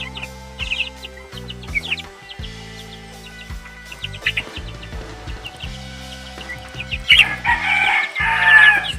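Several chickens cluck in short bursts nearby, with a rooster-like call rising toward the end.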